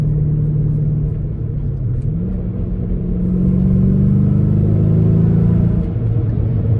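A 1996 Audi S6 Plus Avant estate with its 326-horsepower V8 rumbles steadily at close range, a deep continuous drone whose pitch lifts slightly midway as the revs rise, then settles, with no talk over it.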